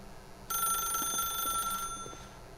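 A telephone rings in The Stanley Parable, one bright electronic trill lasting about a second and a half, clear over a quiet, faintly humming room tone.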